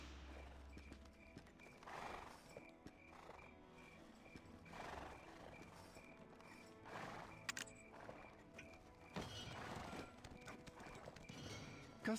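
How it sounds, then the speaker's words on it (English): A horse sprints across an open field in the video game Black Desert Online, with rhythmic hoof clip-clops and whinnies over a layer of croaking frogs, moderately quiet and without voices. "Try sprinting across an open field on the back of a horse."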